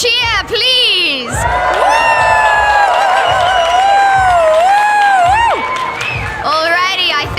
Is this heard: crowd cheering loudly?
yes